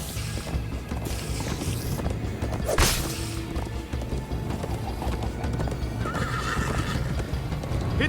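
A horse in the Minecraft Story Mode video game gallops with a steady clip-clop of hooves and lets out a sharp neigh midway, over a dense game soundscape.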